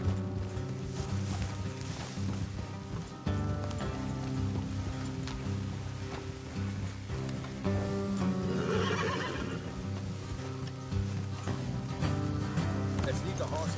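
Horses in the Red Dead Redemption 2 video game whinny and clop their hooves, with steady rain falling around them and people talking over the scene.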